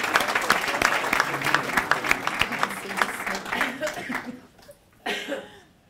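An evening fellowship presentation audience breaks into warm applause for a recipient, a dense wash of clapping with some light laughter that gradually thins and fades out near the end.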